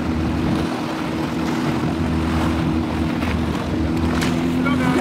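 A boat motor drones steadily while passing near the shore during a celebration on Crete, a constant engine hum with wind noise and brief voices in the background.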